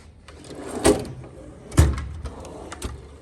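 A drawer of a mechanic's Snap-on tool chest slides open, giving a couple of rolling clunks and rattles close by, with soft handling noise between them.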